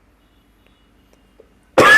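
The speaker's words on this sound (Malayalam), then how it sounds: "ക്ലാസ് എടുക്കാൻ വേണ്ടി ചെയറിൽ വ്യാസാസനത്തിൽ ഇരിക്കുമ്പോൾ അപ്പോൾ ചുമ തുടങ്ങും" A man leading a scripture class coughs once, loudly and close, in a single harsh burst at the very end after near silence.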